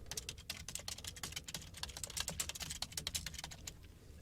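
Rapid, uneven keystrokes on a computer keyboard as a post title is typed, close and fairly loud, clattering steadily for about four seconds with no speech.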